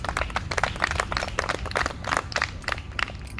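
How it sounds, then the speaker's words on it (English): Audience applauding at an outdoor tree-work seminar in Balboa Park, San Diego: a steady patter of many hands clapping, moderately near, with no talk over it. "Love the applause."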